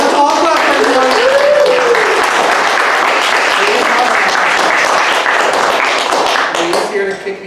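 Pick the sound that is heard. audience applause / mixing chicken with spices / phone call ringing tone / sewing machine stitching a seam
audience applause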